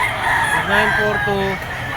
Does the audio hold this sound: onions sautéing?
no